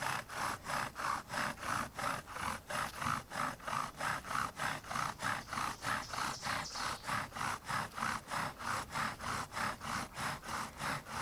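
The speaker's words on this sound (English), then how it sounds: "we're burning in our handhold and we're burning in that lower socket" A wooden bow drill spindle grinds rhythmically in a wooden handhold and fireboard socket while the sockets burn in. Steady back-and-forth rasping strokes, each about a third of a second, repeat close up and unbroken, with no talking.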